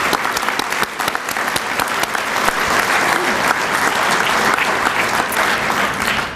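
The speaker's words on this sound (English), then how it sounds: "if we could just please give them a round of applause to recognize them" An audience at an awards ceremony applauds steadily, dense clapping sustained for several seconds at fairly close range, without talk.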